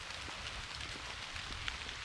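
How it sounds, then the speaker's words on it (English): Rain falls steadily on a hiking trail along the Blairs Pond Loop in the Milford Millponds Nature Preserve, a dense, even patter that fills the whole stretch with no voices. "And the rain has come back with a vengeance."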